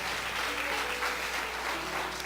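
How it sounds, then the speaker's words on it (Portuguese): A church congregation claps during a pastor's sermon, a continuous, dense wash of applause that carries at a moderate level with faint voices underneath. "Você pode aplaudir e exaltar a Deus por isso."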